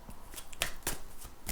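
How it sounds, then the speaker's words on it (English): Tarot cards are shuffled by hand in a quick series of papery riffles and soft slaps, close and fairly quiet, with no talking over them. "I'm just going to shuffle these cards,"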